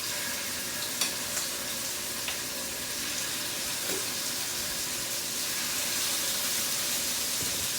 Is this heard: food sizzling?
yes